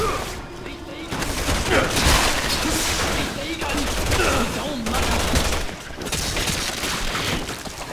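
Gunfire in Resident Evil 6, dense bursts of rapid shots and booms that continue across the stretch with brief breaks, loud and close over game action.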